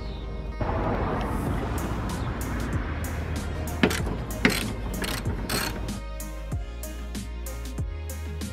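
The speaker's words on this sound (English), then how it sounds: "remove these three 14mm bolts, and also this 10mm bolt that's holding this wire right here" Hand ratchet working 14mm bolts on a Lexus SC400 during a suspension install, brisk close clicking in repeated strokes over a dense mechanical rattle, the clicks becoming sparser and more separate toward the end.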